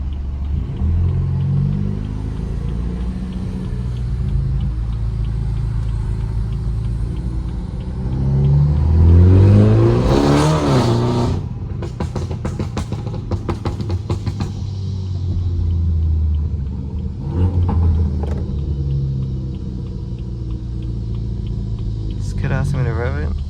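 A tuned BMW 330i with a Stage 2+ tune idles with a deep rumble, then revs hard with a loud surge and crackling burbles, followed by more sharp blips, all close up with someone talking over it.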